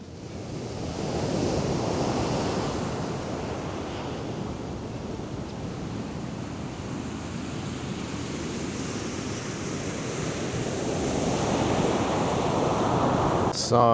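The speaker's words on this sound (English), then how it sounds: "A beautiful beach is always a beautiful beach." Waves breaking on the beach at Darlington, a continuous close roar of surf with rising and falling swells and some wind rumble, no talking.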